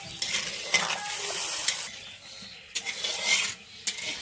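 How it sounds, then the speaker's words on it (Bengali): Spice mix with salt, green chillies and a little sugar bubbles in water in a pan, a close hissing simmer broken by intermittent scraping and stirring bursts. "মশলা দিয়ে যে এটা জলটা ফুটানো হয়ে গেছে"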